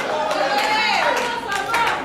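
Applause rings out from an audience at an awards ceremony, a steady wash of clapping filling the room, with a voice speaking over it.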